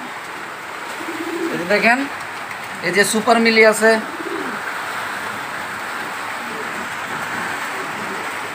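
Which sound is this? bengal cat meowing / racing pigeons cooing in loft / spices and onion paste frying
racing pigeons cooing in loft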